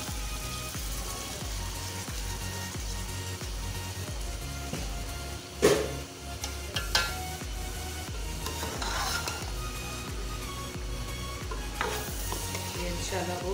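Black-eyed peas (lobiya) being stirred into sizzling keema, a continuous hot frying hiss with repeated rhythmic spoon scrapes against the pot and a louder clatter partway through, no voices.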